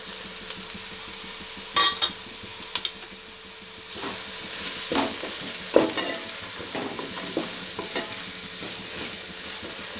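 Onions and green chillies frying in a pan for fish curry, a soft steady sizzle with occasional stirring clicks and scrapes, close and quiet with no talk.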